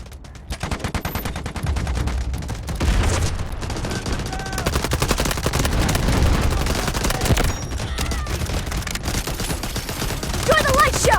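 An artillery barrage pounds away amid continuous rapid gunfire in the Delta Force Mobile game, with dense automatic bursts and heavy booms layered loud and close throughout.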